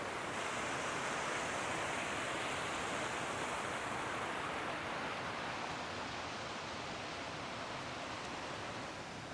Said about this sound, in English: So here's that same river.